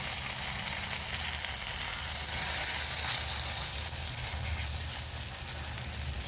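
A pan of food sizzles steadily while frying for a homemade Mann Kochu Bata (taro paste) recipe. The loud, continuous hiss stays close and even throughout, with a low hum underneath and no talking.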